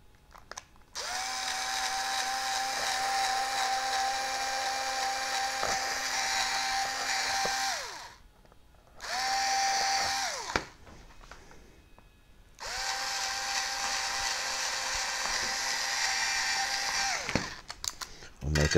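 A power drill whines steadily in three separate runs, close by, pausing between each, with faint clicks and handling noise in the gaps.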